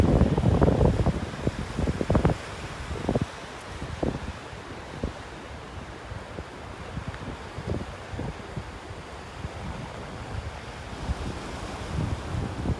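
Gusty wind buffets the microphone in uneven bursts over a soft, constant rush of surf in the background, on a beach at Delnor-Wiggins Pass State Park.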